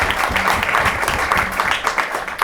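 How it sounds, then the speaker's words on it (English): Applause from a brunch panel audience for the panelists, a moderately sized crowd clapping unevenly with some background murmur, fairly close. "Round of applause for all of our panelists."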